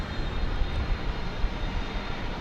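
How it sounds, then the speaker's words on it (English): An American Airlines Airbus A320 jet departs DFW airport, a loud, steady broadband engine roar with no other sounds standing out. "of American Flight 1209 to Albuquerque. It's an Airbus A320."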